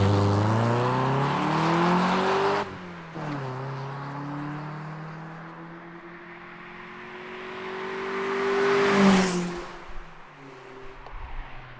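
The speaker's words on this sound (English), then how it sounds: "how this Malian backbox sounds on a stock system" A Mazda MX5 NB with a 4-inch Malian exhaust backbox on an otherwise stock system, engine revving up and settling back repeatedly, a deep rising and falling exhaust note heard close and loud with no talk.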